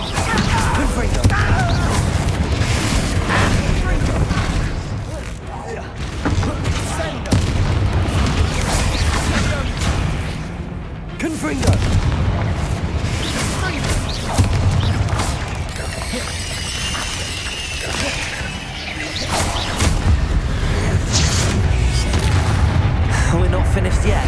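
A Confringo explosion spell from Hogwarts Legacy goes off amid a combat sequence, with loud booms and crashes layered over dense game noise and voices.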